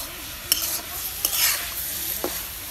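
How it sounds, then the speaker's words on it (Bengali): Grated carrots frying for halwa in a village kitchen: a soft background sizzle broken by a few sharp scrapes and clinks of a spoon stirring in the pan, quiet and close. "কি গাজর ভাজা হইছে না নাই?"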